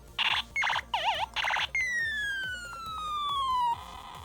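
Siren effect from an 1980s GI Joe Sonic Fighter toy backpack: several short warbling electronic bursts, then a long steadily falling tone, tinny and fairly close over a faint pulsing hum.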